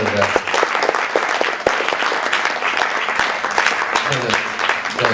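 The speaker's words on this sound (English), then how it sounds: "please applaud her" Steady audience applause at an awards celebration after a group's song performance, dense clapping filling the room with a faint voice underneath.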